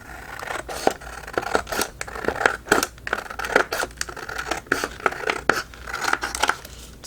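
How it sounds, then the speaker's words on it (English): Scissors snipping the border off a piece of paper for collage tags and cards, a quick series of close crisp cuts in an uneven rhythm, with no voices. "Just gonna cut off the border."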